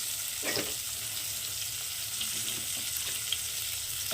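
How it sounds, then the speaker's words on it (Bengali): Salted eggplant slices fry in hot oil in a pan for shukto, making a close, steady sizzle broken by a few soft stirring scrapes, with no one speaking. "এবার একইভাবে বেগুনগুলোকেও ভেজে নেব।"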